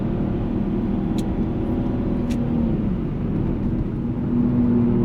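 A Ford Fairlane AU limousine drones steadily while driving fast on the Nürburgring, its engine a continuous, moderately loud rumble heard from inside, with two brief high clicks early on.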